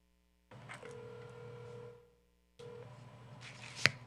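Telephone call tones from a phone dialing out during a zoning board meeting: two steady electronic tone stretches separated by a short silence, with a brief sharp click near the end.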